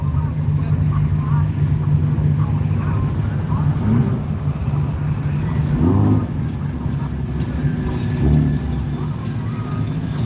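Slow bumper-to-bumper road traffic at an automotive show in Wisconsin Dells, with engines rumbling and revving throughout and a crowd murmuring, as a person talks over the noise.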